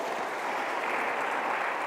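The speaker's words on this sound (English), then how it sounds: "give a big round of applause" Continuous, dense clapping from a crowd, steady and fairly loud throughout with no voices.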